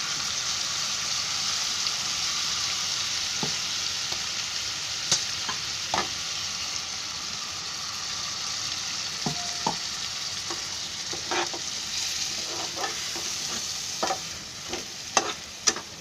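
Ground masala sizzles and frys in a pan for Maharashtrian crab curry, a steady hiss with faint scraping stirs and small clicks scattered throughout, close and quiet, with no talking.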